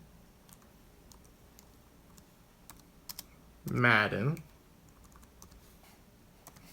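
Someone types on a computer keyboard: sparse, faint key clicks spread across a quiet room, with a short burst of a voice in the middle.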